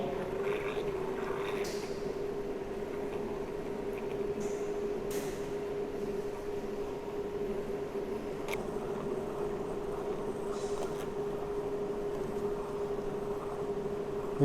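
A cold cream mixture of water and oil phases is stirred, giving a steady, faint mechanical hum that drones on without a break, with a few soft knocks now and then.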